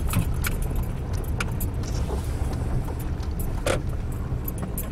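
A car rolls along a gravel road with a steady rumble of tyres crunching over stones. Sharper pops and rattles from loose gravel break through the noise. The whole pass is continuous and close.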